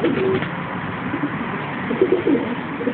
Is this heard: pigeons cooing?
yes